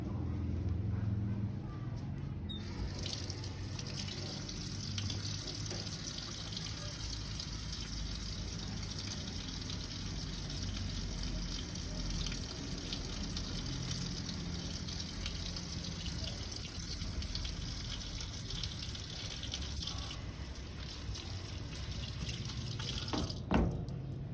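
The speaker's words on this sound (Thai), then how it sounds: "แล้วเราก็จะมาล้างมือหาขั้นตอน" Tap water runs steadily into a sink for handwashing, a continuous close-up rushing wash that starts abruptly and holds evenly to the end, with no talking over it.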